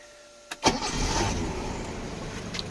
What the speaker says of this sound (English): And here's the cold start.